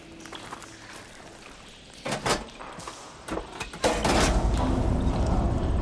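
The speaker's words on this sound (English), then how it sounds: "Sounds like the water's switched." A rushing water flow switched by machinery in the video game Horizon Forbidden West, rising into a steady loud wash after a few mechanical clunks, with no one talking.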